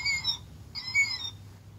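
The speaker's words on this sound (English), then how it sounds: "This is the killdeer." Two short, shrill electronic-sounding killdeer calls, each a burst of high piercing notes, clear and close with a brief pause between them.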